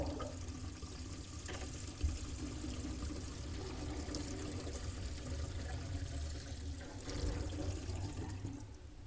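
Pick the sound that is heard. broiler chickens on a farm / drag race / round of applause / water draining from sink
water draining from sink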